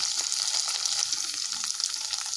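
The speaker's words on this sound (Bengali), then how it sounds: "ঢ্যাঁড়সগুলো আমি একটু হালকা করে ভেজে নেব" Okra crackles and sizzles steadily in hot oil, a dense bright frying hiss with scattered pops, close and continuous, no voices.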